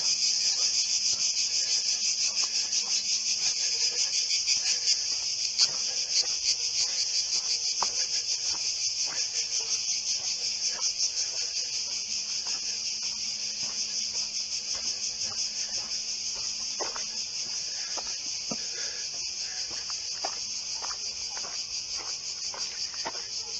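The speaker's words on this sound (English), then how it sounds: "To a chorus of cicadas." Cicadas buzz as a dense, continuous high-pitched chorus on Filopappos Hill in Athens, steady and loud throughout with faint footsteps and no speech.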